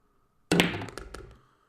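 A pool ball is potted in a 9-ball match in the Virtual Pool 4 game, heard alone. A sharp clack is followed by a few quick knocks and rattles that fade out within a second.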